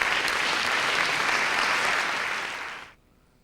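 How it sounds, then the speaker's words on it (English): Audience applause for a storyteller rings out as a full, even burst of clapping for nearly three seconds, then cuts off abruptly into near silence. "Give her a round of applause."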